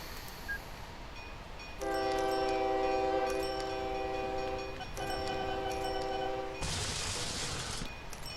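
Trains running in the railway game OpenTTD: a sustained chord-like train horn sounds twice for several seconds each, then a burst of hissing noise, over low rumbling background with no voices.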